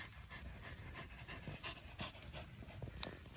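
A dog pants steadily on an outdoor walk, quick breathy rhythmic puffs close by, with faint background noise and no talking.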